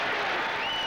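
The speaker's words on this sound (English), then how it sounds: "the crowd beginning to applaud and get at it" Stadium crowd at a 1981 NFL game between the Green Bay Packers and Chicago Bears breaking into applause, a dense, steady wash of clapping and crowd noise filling the short moment.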